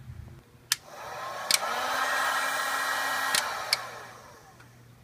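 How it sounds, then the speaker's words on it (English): A heat gun blowing on a GM 5.3 Vortec engine's harmonic balancer pulley bolt, a close steady whooshing roar that swells and fades, punctuated by a few sharp clicks, with no talk. "I'm gonna use this heat gun. Let this run for about a minute."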